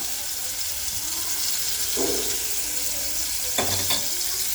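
Tomatoes frying in a pan for a village-style ridge gourd and tomato chutney, a steady broadband sizzle throughout, with a couple of brief clinks of stirring or handling partway through.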